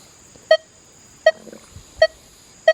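Four short electronic beeps from a Manticore metal detector with an M9 coil, signalling a nickel above flat iron and nails, sound at regular intervals, clear and close, with faint rustling between them.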